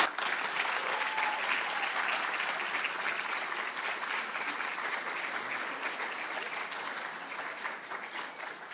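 An audience at a student speaking event gives a long, steady round of applause after the speeches, fairly distant and even, slowly tapering toward the end.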